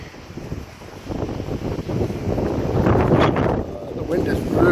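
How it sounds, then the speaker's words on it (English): Strong wind buffeting a microphone outdoors on a very windy day, a loud rumbling roar that swells and gusts throughout, with a person talking under it. "it's really windy"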